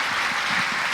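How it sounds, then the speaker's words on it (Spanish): A church audience applauds Emilio, a steady wash of clapping from many hands with no break across the short moment, fairly close and even in loudness. "Un aplauso para Emilio, por favor."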